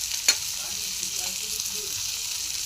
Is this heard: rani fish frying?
yes